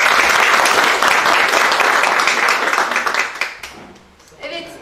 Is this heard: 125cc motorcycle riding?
no